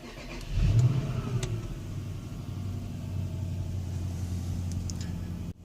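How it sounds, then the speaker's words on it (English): Infiniti M45 engine cranking and catching, with a sharp start surge followed by a steady low idle rumble, close and continuous, without talk. "let's start the car"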